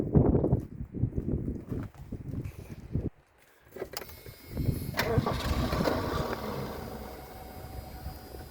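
Muffled rumbling and handling noises, a brief pause, then a 1981 Ford Durango pickup truck engine cranks and catches, settling into a steady, very smooth, close idle.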